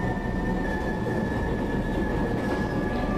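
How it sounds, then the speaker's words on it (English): A subway train in a horror video game rumbles steadily with a constant mechanical hum and a high whine, a continuous loud roar throughout with no speech. "Oh, this is a subway train, and it's moving!"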